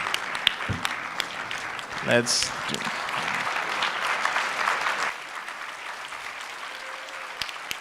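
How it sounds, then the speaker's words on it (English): A conference audience stands to applaud a panel at the SATVETSA Conference 2024, steady dense clapping with a brief louder burst early on, a voice speaking over the applause, the clapping thinning toward the end. "let's stand up, man, and give them a good round of applause"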